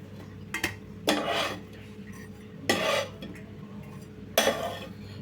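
Cooked bread pieces are moved onto another plate in three separate bursts of scraping and clattering utensils against dishware, each a second or so long, with a quiet hum between them.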